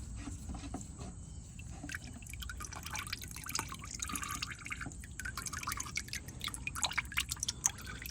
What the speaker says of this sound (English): Yep, some oil does come out. We gotta let it drain.